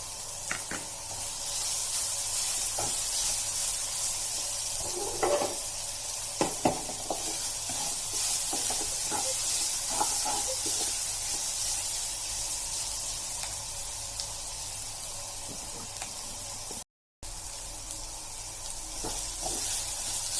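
Ginger and garlic fry in masala in a pan, a constant hissing sizzle broken by occasional stirring knocks and scrapes, briefly cut to silence near the end, with no talk.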